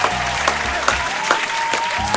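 A canned applause sound effect triggered from a button plays, a steady wash of crowd clapping at full volume throughout, with faint background tones underneath.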